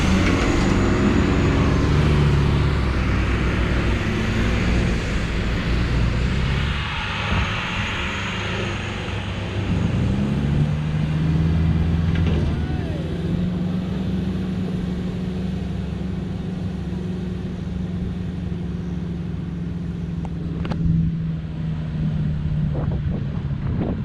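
A 4x4 tows another 4x4 through soft beach sand on Moreton Island, engines droning and straining under heavy wind buffeting, with a rising then sustained engine note in the second half.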